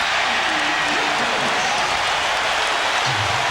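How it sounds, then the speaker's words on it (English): A basketball arena crowd in a 1996 Bulls–Knicks playoff game roars and cheers after Toni Kukoc's fadeaway jumper, a loud, dense, continuous wash of noise throughout with a commentator's voice faintly underneath. "And the crowd gives Tony a big cheer"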